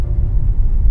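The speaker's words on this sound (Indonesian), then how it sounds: "Itu suara knalpotnya." Stock exhaust on a Suzuki Ertiga car, a steady low rumble close by, continuous and fairly loud with no revving.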